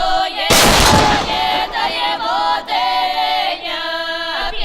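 A tank cannon fires, a sudden, very loud blast setting off a burst of noise up close, then ringing tones and a steady mechanical hum carry on afterward.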